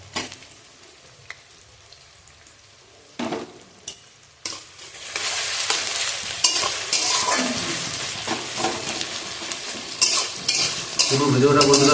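Onions frying in a pan for chicken kosha, a steady close sizzle that grows louder partway through, with intermittent spatula stirring and scraping against the pan.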